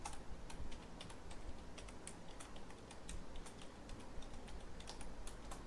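Rapid, steady clicking of a computer keyboard as code is typed, with quiet, continuous keystrokes and no speech.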